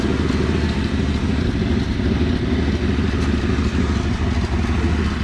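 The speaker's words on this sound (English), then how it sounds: "So we're gonna crank her up, and you're gonna get in it and see if she'll go in gear." The 260 engine of a 1963 Ford Fairlane 500 runs in a steady, loud, close idle with a low rumble and a busy mechanical clatter, unchanged throughout.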